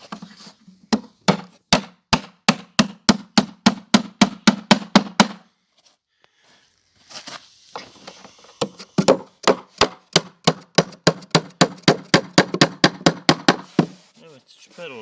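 Hammer driving nails into wood while building a chicken feeder, a long run of sharp, evenly spaced strikes, a short pause, then another fast series of blows, close and loud.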